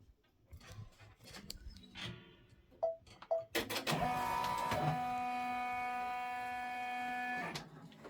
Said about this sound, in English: Let's do our placement stitch.